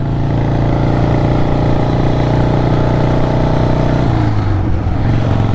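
A 1977 Harley-Davidson Ironhead motorcycle engine revs loud and steady with a slipping clutch, holding a high drone before the pitch sags and wavers near the end.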